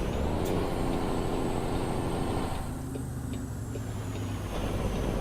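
A heavy truck engine in the video game American Truck Simulator drones at a low, steady idle, close and loud, with a faint high whine above it and no voices.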